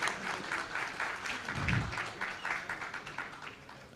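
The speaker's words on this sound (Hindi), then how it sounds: "जोरदार तालियां बजनी चाहिए हमारे इन सभी मेहमानों के लिए।" Audience at a talk session applauding to welcome guests, steady many-handed clapping that fades slightly toward the end, with a brief low thump partway through.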